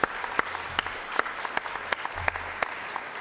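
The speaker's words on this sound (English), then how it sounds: "I think we give them all a round of applause" Sparse, scattered clapping from a small city council meeting audience, with individual claps standing out at irregular intervals rather than forming a dense roar; moderately quiet, as if heard from across a chamber.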